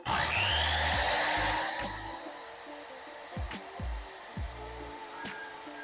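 A power saw cuts wooden dowels for a fluted side table, giving a loud whining cut that spins down, followed by several quieter clunks and knocks as the pieces are handled nearby.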